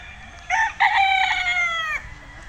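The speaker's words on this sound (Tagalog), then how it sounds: "Bali ito yung mga manok nila." A single rooster crows once, loud and close, a drawn-out cock-a-doodle-doo lasting about a second and a half over a faint background.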